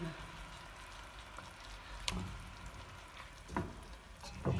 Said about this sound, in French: j'ai baissé le feu. Je vais laisser mijoter